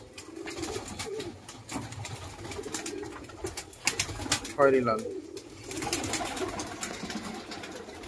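Pigeons in a loft of a few hundred birds coo in a low, rolling burst near the middle, with scattered wing flaps and bird noise around it while someone talks close by over the flock.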